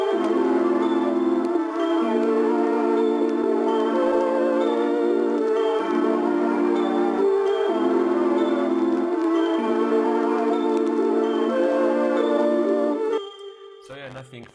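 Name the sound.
bells layered with a sample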